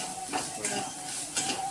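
A spoon stirs mung dal amti in a metal pot, giving light repeated scrapes and clinks against the sides at a steady close-up rhythm, with no talking.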